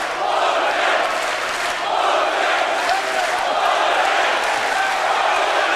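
A crowd of about 4000 spectators at a boxing match in Düsseldorf roars in a steady, dense wash of shouting and cheering that carries on throughout, fairly loud and continuous.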